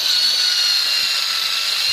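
An SDS rotary hammer drill runs continuously, a steady loud high-pitched whine with a dense buzzing edge and no pauses.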